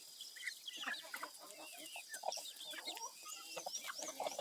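Chickens at a farm cluck busily at feeding time on corn after a night of rain, a dense overlapping chorus of close, moderate clucks and chirps with no talking.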